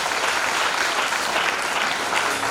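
Church congregation applauding at a concert celebrating a gospel singer's debut album release: steady, dense clapping from a large audience filling the space throughout, with no voices standing out.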